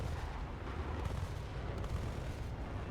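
Rapid aircraft cannon and machine-gun fire in a high-tier video game dogfight, a dense continuous rattle of shots with muffled booms, steady and close throughout with no talking.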